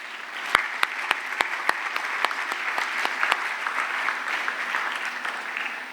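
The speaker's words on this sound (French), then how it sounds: "Acclamons le Seigneur." A church congregation breaks into steady, moderately loud applause for several seconds, with a few sharp individual claps standing out at the start before the clapping evens out into a dense patter.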